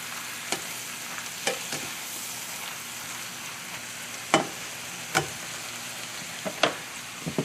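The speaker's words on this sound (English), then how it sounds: "once we get the spinach well coated in our bacon grease" Spinach frying in bacon grease in a pan makes a quiet, steady sizzle, broken by a few sharp clicks and scrapes of stirring, with no voices.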